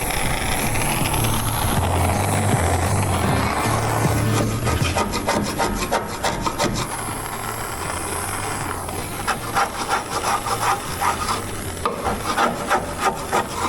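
A scraper rasps steadily against undercoating near the exhaust under a Jeep, a loud continuous rough grinding that later breaks into rapid rhythmic scraping strokes.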